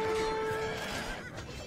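Horses neighing in Age of Empires 2 during a battle, a clear whinny with a drawn-out tonal cry that fades over under two seconds, set against game clatter with no talk.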